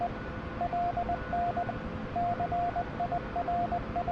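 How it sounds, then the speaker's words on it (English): A radio navigation beacon's Morse code identifier received in a Huey helicopter simulator beeps as a steady single tone in short dots and dashes, in repeating groups over a faint background hiss. "we're getting a loud Morse code receipt there, meaning we're probably on to the guy"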